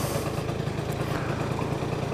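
A vehicle engine fitted with an aftermarket exhaust runs steadily at a fuel station, giving a continuous, even, moderately loud rumble with no talk over it.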